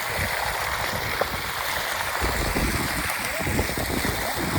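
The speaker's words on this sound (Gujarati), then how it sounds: "પાણી આવી ગયું મોટર શરૂ કરી" Water gushes steadily from a freshly started water pump motor, a loud, dense and continuous rushing flow close by with no pauses.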